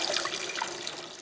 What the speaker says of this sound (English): The chefs then baste the duck with hot water to tighten and crisp the skin.